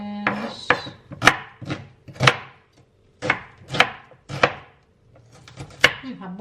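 A knife chopping white onions on a wooden cutting board in a home kitchen, about nine sharp, evenly spaced thuds, close and clear with no talking.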